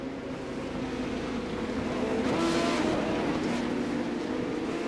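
Race cars in a Formula Fun Cup event drone steadily around a dirt track, their engines swelling as one car passes close by midway and then fading back into a continuous hum.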